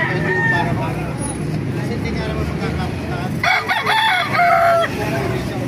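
A Hiraw gamefowl rooster crows once outdoors, a clear close call in the second half, with nearby talk and faint road traffic in the background.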